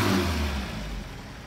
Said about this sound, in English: Let's give this thing a couple of revs.